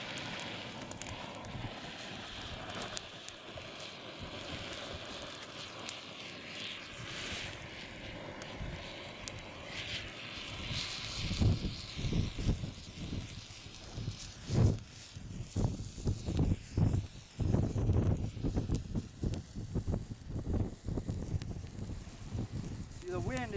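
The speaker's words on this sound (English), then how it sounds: "the wind is actually pushing this fire as well" A wood fire lit with a road flare burns outdoors in wind, its crackling and popping rising into sharp irregular snaps over a steady windy rush and microphone buffeting.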